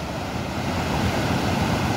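Swollen, muddy Salgado river rushing after heavy rain, a dense, steady broadband roar of water close to the microphone, continuous throughout with no voices.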